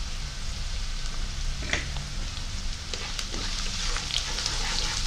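Onions, green chillies and fennel sauté in a pan with a dense, even sizzle that holds steady throughout. A few faint scrapes of stirring come through close by.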